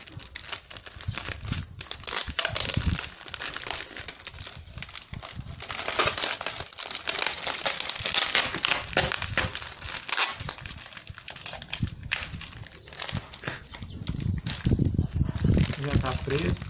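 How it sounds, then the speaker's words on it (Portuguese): Adhesive tape wound around a snack package from the Amido Pan brand, continuous close crinkling and tearing rustle of plastic wrap throughout, with brief talk mixed in. "Vamos passar uma fita aqui"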